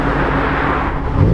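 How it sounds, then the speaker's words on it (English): A boosted automatic Mazda Miata show car revs loudly close by. A thick, steady engine roar holds throughout, with a slight rise in pitch near the end. "Let's rev it"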